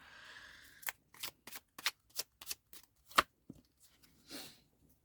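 A deck of tarot cards is shuffled and drawn, giving about nine crisp snapping flicks in an uneven rhythm, close and fairly quiet, then a soft sliding rustle.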